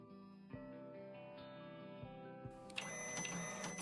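Toy printer printing in the Toy Tinker Simulator video game, a humming mechanical drone with regular soft clicks that swells into a brighter, busier whir toward the end, with no talking.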